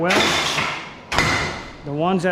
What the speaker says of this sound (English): I use this punch right here, and I just drive it right out through the center of the weld